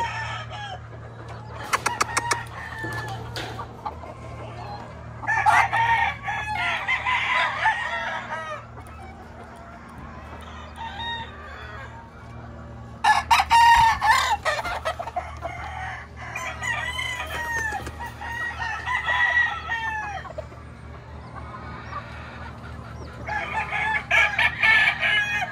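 Young game-farm roosters kept for breeding crow and cluck close by, several bursts of crowing separated by quieter stretches of scattered clucks over a faint steady hum.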